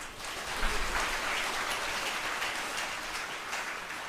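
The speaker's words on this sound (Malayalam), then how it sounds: "അമ്മയ്ക്ക് നന്ദി പറഞ്ഞുകൊണ്ട് കൈയടിച്ചുകൊണ്ട് ശ്രദ്ധിക്കട്ടെ" A church congregation claps in steady, dense applause that holds evenly throughout, heard from within the hall at moderate level with no talk over it.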